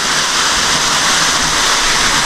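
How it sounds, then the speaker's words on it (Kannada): Waterfall spilling down from a hillside gives a loud, close, continuous white rush with no breaks or voices. "ಮ್ಯಾಲಿಂದಿಂದ ಗುಡ್ಡದಂದ ನೀರು ಬಿಡಾಗತ್ತವ್ರಿ"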